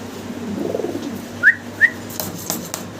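Pigeons at a Bangladeshi pigeon farm, including a pair of Mundian pigeons, give a couple of short, clear calls over steady background hum, with faint soft cooing at moderate distance.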